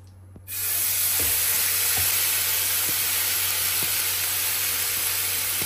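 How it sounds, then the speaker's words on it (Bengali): Chicken kebab marinade hits a lightly oiled, greased pan and erupts into a loud, steady sizzle that starts abruptly and holds constant, with a few faint clicks of stirring underneath. "প্যানটাকে জাস্ট একটু গ্রিস করে নিলাম, একটু অল্প সামান্য 1-2 ফোঁটা তেল দিয়ে, আর এই পুরো ম্যারিনেশনটা দিয়ে দেবো"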